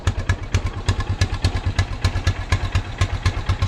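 A 1974 Honda XL250 motorcycle engine runs poorly nearby, a steady lumpy thumping idle with regular clattering firing pulses and no voices.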